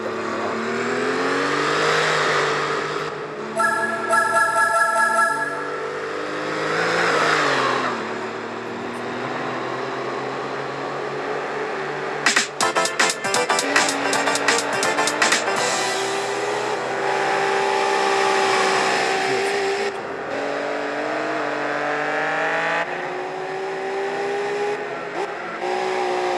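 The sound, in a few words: Roost BTR race car engine in Gran Turismo 4 video game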